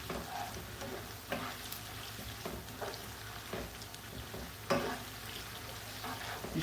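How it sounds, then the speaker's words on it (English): A pot of boiled catfish stew is stirred over the heat, giving a steady low sizzle with soft scraping strokes and occasional clinks, fairly faint and close, without talk. "You stir this round nicely like this."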